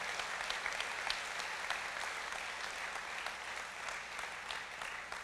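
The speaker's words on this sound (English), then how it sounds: "let's give our code talker families a big round of applause" An audience at the 2018 Choctaw Nation State of the Nation address claps for the code talker families, with dense, sustained applause filling the room at moderate distance.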